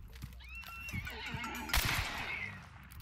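A horse in a video game gives a loud, shaky whinny that rises and then trails off, with faint hoof clops before it, against a soft background hum.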